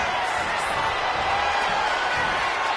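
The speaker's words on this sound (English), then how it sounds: "Look at Femi getting the crowd involved." Arena crowd in the wrestling video game WWE 2K26 cheering during a match, a continuous broad roar of many voices holding at a steady, fairly loud level.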